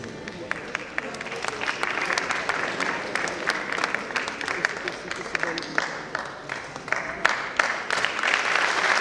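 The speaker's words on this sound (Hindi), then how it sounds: "तालियां बजती रहे, जोरदार तालियां बजाएं" Hearty applause from an audience at a ceremony marking an organisation's 75th anniversary, with dense, continuous clapping and sharp individual claps rising and falling over several seconds.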